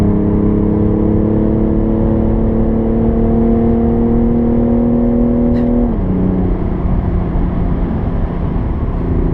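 Car at full throttle on the Nürburgring Nordschleife, a loud steady engine drone heard from inside, the pitch climbing slowly, then dropping briefly at a gear change before holding again.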